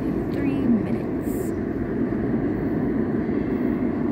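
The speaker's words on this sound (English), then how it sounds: "At the train station, my train is coming in 3 minutes." A train pulls into a station in Ottawa, a steady, close, low rumble and rolling roar that holds without letup.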